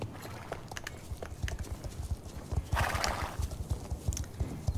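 Horse hooves clip-clop in a steady walking rhythm with a whinny partway through, from a horse ridden in the online game Star Stable Online, close and clear with no talk.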